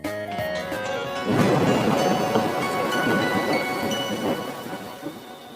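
Rain and thunder from a storm scene in the Bangla cartoon Nut Boltu: a steady, loud wash of downpour with rumbling that swells after a short musical opening and carries on to the end.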